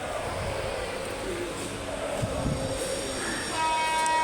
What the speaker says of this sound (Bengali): একটা ট্রেন ছেড়ে গেল